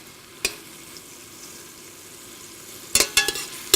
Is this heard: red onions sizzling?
yes